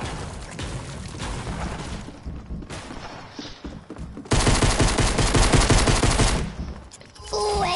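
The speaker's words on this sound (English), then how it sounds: "Ooh, headshot with blue hunting rifle does so much damage!" Blue hunting rifle gunfire in the Fortnite video game, loud sharp shots and bursts with heavy booming reports across the clip, dense and close, with a brief lull before an intense stretch of firing.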